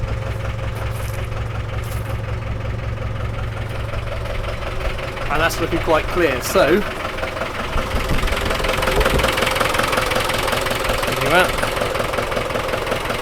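A Ford Transit MK4 engine idling close by, a steady low rumble with a faint knocking edge running through the whole stretch while someone talks over it.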